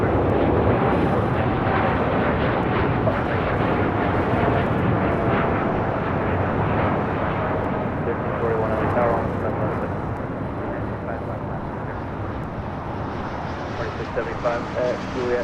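A United Airlines jet departs LAX with a broad, loud roar buffeted by wind that eases slightly toward the end, while voices talk over it.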